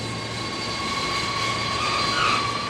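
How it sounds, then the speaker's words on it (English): An RAF C-17 Globemaster long-range jet cargo aircraft passing over Brize Norton airbase: a steady, broad jet roar with a whining engine tone, heard from a distance and swelling slightly toward the end, with no voices. "One of which is the C-17 Globemaster, the RAF's biggest and fastest long-range cargo aircraft."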